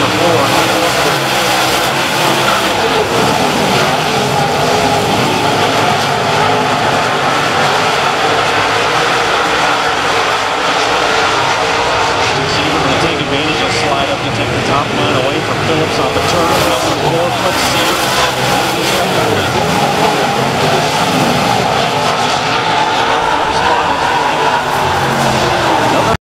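USMTS modified race cars roar around Humboldt Speedway in a heat race, a loud continuous engine drone that swells and fades as cars pass, with a track announcer talking over it throughout.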